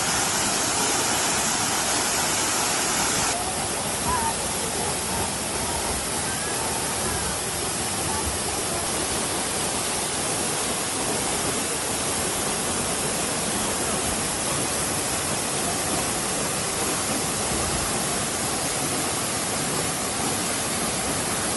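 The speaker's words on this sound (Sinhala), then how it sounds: "මේ වතුර කඩා හැලෙන්නේ අඩි 60ක 70ක විතර උඩකින් ඉඳන්" The Demodarella waterfall, also called Bogama Ella, drops 60 to 70 feet and roars as a loud, unbroken broadband wash of falling water with no talk over it.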